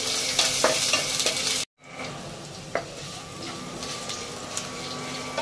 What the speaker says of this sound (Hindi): तो हमें जिंजर को थोड़ा सा भूनना है